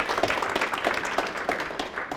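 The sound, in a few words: audience applause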